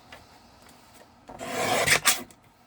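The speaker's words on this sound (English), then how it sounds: "we're going to cut open this envelope" A paper envelope being sliced open, with a quiet start followed by a rough, loud scraping cut lasting about a second, ending in two sharp strokes.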